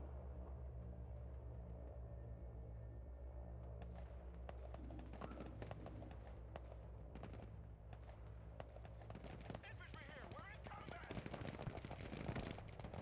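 Gunfire from the military strategy game Broken Arrow, faint and distant, a low rumbling of repeated shots and bursts that grows denser and more crackling toward the end, with no talking.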